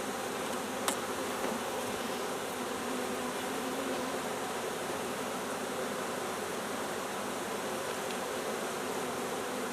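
A dense, even drone of honey bees fills the air while a package of bees is installed into a new hive, a constant close buzz with one sharp click early on.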